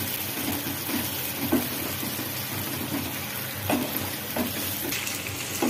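Tomato and spice paste fries in a pan for a Bengali chicken kosha, giving a steady soft sizzle with occasional stirring scrapes and small pops, close and moderately loud, with no voices.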